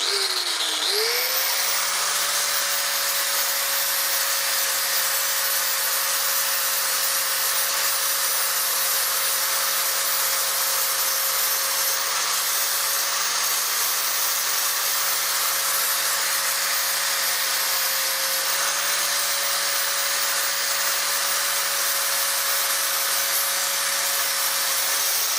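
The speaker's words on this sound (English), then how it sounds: "Now I'll show you how I do this bit, which involves the angle grinder, which is going to be noisy, so be aware." An angle grinder cuts into a wooden bird table roof, a loud, steady, high whine that spins up at the start and holds with a slight dip in pitch partway through.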